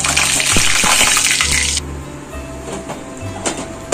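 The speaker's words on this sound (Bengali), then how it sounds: "তেলটা গরম হয়ে গেছে। এখন দিলাম 4টে শুকনো লঙ্কা, 1/2 চামচ সাদা জিরে।" Four dried red chillies and half a spoon of cumin seeds dropped into hot oil in a pan, a loud close sizzle that cuts off abruptly after about two seconds, leaving quieter crackles and faint clinks.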